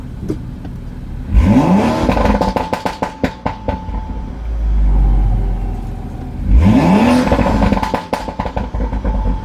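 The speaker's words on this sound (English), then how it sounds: "Let's do one last rev here." BMW F30 with a Bootmod3 aggressive burble tune revs twice, each sharp rise in engine pitch followed by a rapid string of crackling exhaust pops and burbles, with a low idle rumble between the blips.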